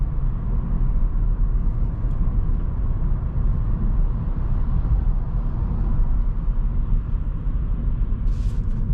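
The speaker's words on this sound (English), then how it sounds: "this very efficient hybrid, which just cruises along" Cabin of a 2021 Toyota Yaris Hybrid (116 HP, Sport trim) cruising on the road, a steady low rumble of road and tyre noise with a faint high hiss near the end.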